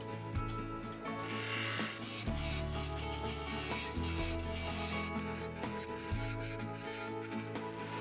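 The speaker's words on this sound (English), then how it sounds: "So here goes, so with the roughing gouge first." A roughing gouge cuts spinning wood on a lathe with a continuous loud, rasping scrape, under a steady motor hum with small shifts in pitch as the tool moves.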